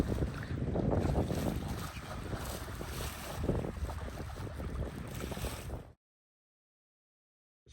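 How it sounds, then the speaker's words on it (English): Breeze rushing over a sailboat under way at sea near Spanish Wells, a steady, fairly loud wind roar buffeting the microphone with water washing beneath, cutting off abruptly to silence near the end. "thankfully we've got wonderful breeze from the perfect direction"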